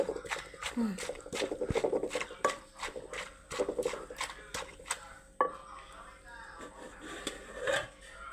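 Pestle pounding vegetarian som tam, Isan-style papaya salad with chillies, in a mortar: repeated sharp thuds in a steady beat, close and fairly quiet, while someone talks over it.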